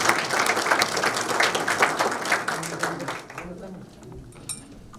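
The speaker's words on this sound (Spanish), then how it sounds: "La recibimos con un aplauso." Seminar audience in Ushuaia applauding to welcome a speaker, dense clapping that thins and dies away after about three seconds, leaving scattered claps and murmur.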